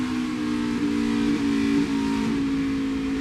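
A NASCAR Xfinity race car engine at Pocono Raceway drones steadily, with the pitch rising and dipping slightly through a corner, heard at a moderate distance over a continuous rumble with no talk.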